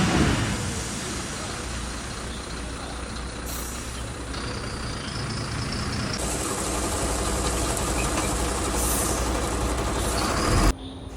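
A truck rumbles and idles nearby at a construction site in Kerala while dropping off the first load of gravel chips for a restaurant foundation, with air brake hisses, a shift in engine pitch and an abrupt stop near the end.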